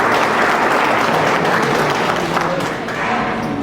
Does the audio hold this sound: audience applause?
yes